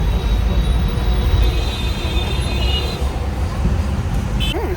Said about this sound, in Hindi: लेकिन मेट्रो भी आ रही है।